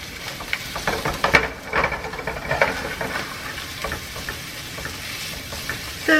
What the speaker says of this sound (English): we're going to heat up some oil, and we're going to put half of a big white onion to saute until it's nice and brown